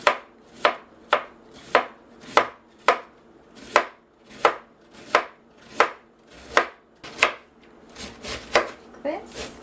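A knife slices a cabbage laid flat side down on a cutting board, giving about fourteen crisp, evenly paced chops that land close and loud with brief quiet gaps between them, and the strokes speed up slightly toward the end.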